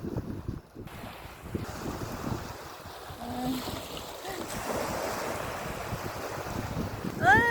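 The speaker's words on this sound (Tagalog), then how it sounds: "sa lakas ng alon, ganyan nangyari sa dagat" Strong sea waves surge and wash continuously against a boat, with heavy wind buffeting the microphone and a few faint bird calls.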